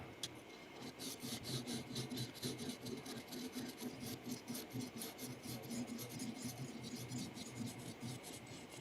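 A knife blade is drawn repeatedly over a sharpening surface in a quick, steady rasping rhythm of short strokes, fairly close and continuous.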